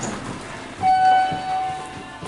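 A Dover hydraulic elevator at a JCPenney in Cherry Hill Mall, New Jersey, runs with a steady low mechanical hum and a faint high whine. The sound swells in the middle and stays fairly quiet and continuous, with no talk.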